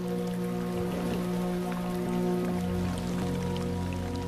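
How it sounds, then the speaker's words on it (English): Steady rain falls on the Luangwa valley in Zambia at the start of the rainy season, a dense continuous patter of drops with a faint trickling undertone, even and unbroken throughout. "As the rains roll in,"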